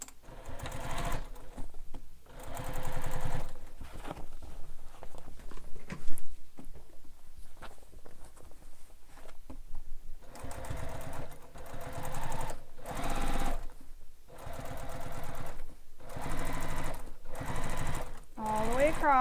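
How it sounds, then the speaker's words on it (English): A sewing machine runs in several bursts while top stitching a seam on the base of a handheld bag, its rapid mechanical whirring loud and close, with short pauses between runs and brief talking in the gaps. "And then I'm going to top stitch this seam on the base."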